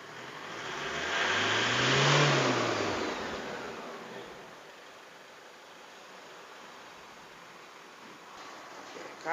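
An Isuzu D-Max pickup engine with a black smoke fault revs during a smoke-opacity test, swelling to a loud roar and falling back to a steady idle hum, heard close with no talking.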